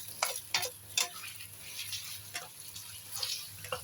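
Marinated beef being stir-fried in a pan, a soft continuous sizzle broken by several sharp scraping and clinking strokes of a spatula, heard close with no talk.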